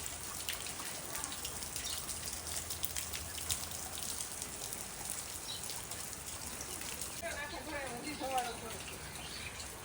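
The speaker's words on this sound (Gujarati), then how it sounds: "વરસાદ ધીમો ધીમો શરૂ છે" Light rain falls over a village with a soft, even patter throughout the quiet scene, and a faint voice rises briefly near the end.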